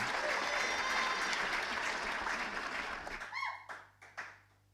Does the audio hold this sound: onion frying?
no